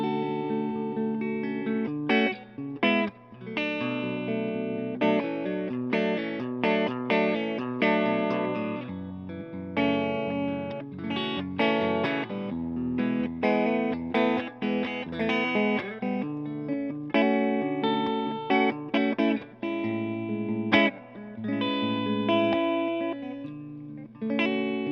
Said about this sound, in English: Can we go back to playing clean? I backed off the cut a little bit and put the reverb back around, about 6 or 7.